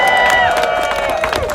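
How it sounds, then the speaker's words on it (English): Protest crowd rallying after the Senate rejected the For the People Act, applauding and cheering loudly for Reverend Barber in a dense, continuous roar, with a raised voice carrying over the noise. "Give him a loving round of applause."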